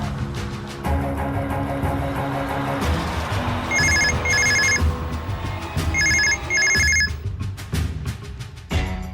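A landline telephone rings indoors in repeated double trills, loud and close, over a background of steady ambient sound, with no one speaking.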